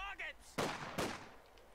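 Two loud, sharp gunshot blasts from the Company of Heroes 2 World War II strategy game, about half a second apart, each with a decaying tail, following a brief voice line.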